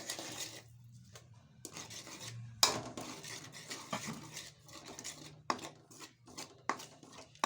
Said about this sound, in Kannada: ಹಿಟ್ಟು ಹಾಕಿ ಕಲಿಸ್ಬೇಕು